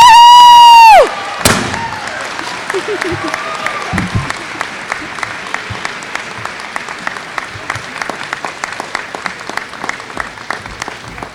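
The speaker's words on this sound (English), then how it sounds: "Give yourself a round of applause." Graduates at a 2019 Terra State Community College commencement break into loud, sustained applause and cheering after a brief electronic tone, with dense crowd clapping and occasional shouts continuing steadily to the end.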